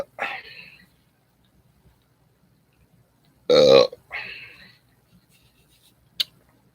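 A loud, close burp erupts for about half a second, bracketed by short bursts of nearby voices and laughter, with a sharp click near the end.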